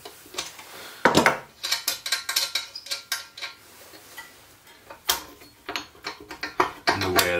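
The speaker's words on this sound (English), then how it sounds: "I'm going to take this nut off." A nut is worked loose from the shaft of a 1.5 horsepower bench grinder with a wrench. Close metallic clicks, clinks and ratcheting taps come in irregular quick bursts, and no one speaks.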